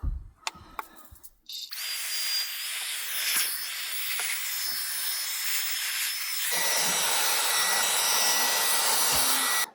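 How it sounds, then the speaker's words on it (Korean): A vacuum cleaner sucking up gnats inside a car at a riverside campsite, a steady loud whooshing roar that starts after some clunks and rises in pitch partway through. "지금 날파리 같은 게 많으니까 청소기로 최대한 잡고"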